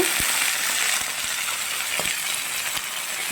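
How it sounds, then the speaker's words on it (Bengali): Potatoes and eggs fry in a pan for a Bengali vegetarian dish, a steady close sizzle with a few light clicks from stirring, and no one talking. "এবারে দিয়ে দিলাম ডিম আর আলু এবারে সুন্দর করে লাল লাল করে ভেজে নেড়ে চেড়ে নেব"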